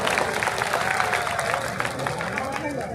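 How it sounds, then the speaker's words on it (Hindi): Large crowd applauding at an outdoor SC/ST mahapanchayat rally in Jaipur, Rajasthan, a dense continuous wash of clapping throughout, with voices and crowd murmur mixed in. "एक बार आपके लिए जोरदार तालियों की गड़गड़ाहट होनी चाहिए।"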